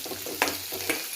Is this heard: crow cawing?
no